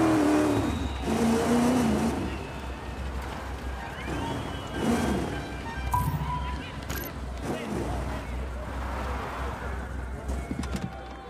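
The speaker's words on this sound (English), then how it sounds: "Pull the car out of the mud pond." A rally car engine revs and strains in mud in the video game Dakar 18, with loud surging engine bursts and shifting pitch, alongside other game sounds and a voice.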